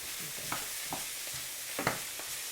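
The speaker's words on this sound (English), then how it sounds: "you're sauteing how much peppers and onions do you have in there?" Green and red bell peppers with onion sauté in a pan, a steady faint sizzle beneath a few soft stirring scrapes and clicks, heard close with no talking.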